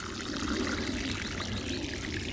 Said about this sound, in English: so I'm watering it in with the More Bloom